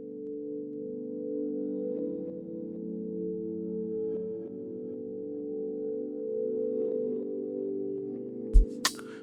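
A beat intro built from re-reversed synth chords, sustained layered tones shifting slowly between chord changes, ending with a short sharp percussive hit; no voices.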